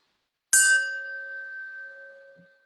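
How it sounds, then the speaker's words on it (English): A single bell strikes once, clear and close, its bright ringing tone decaying slowly over a couple of seconds in near silence. "What happened to my bell?"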